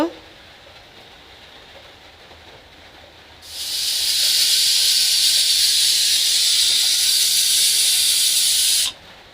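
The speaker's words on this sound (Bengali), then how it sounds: "আলুটা দেওয়ার পর আমি আরও দুই থেকে তিনটা সিটি দিয়ে নিব" A pressure cooker holding tripe and potatoes lets out a loud, sustained steam hiss that starts abruptly after a few quiet seconds, holds steady for about five seconds, then stops sharply.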